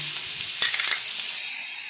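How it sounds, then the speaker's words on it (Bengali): Grated onion goes into hot oil left over from frying paneer, giving a steady, fairly quiet sizzle with a few small crackles and spatters near the start. "এবার এই তেলেই গ্রেট করা পেঁয়াজ দিয়ে দেবো।"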